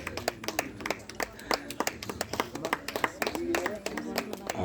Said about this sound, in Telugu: హల్లెలూయా చప్పట్లు